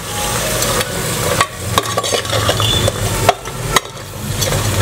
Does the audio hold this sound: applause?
no